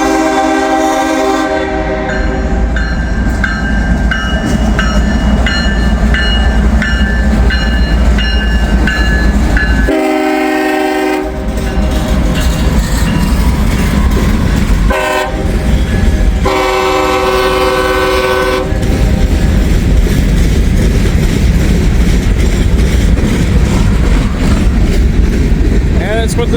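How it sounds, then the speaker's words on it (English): An empty CSX grain train thunders past in Hamilton, loud and close, with repeated blasts of its multi-tone horn over a steady rumble and clatter of freight cars; a voice is briefly heard. "This is going to be an empty grain train."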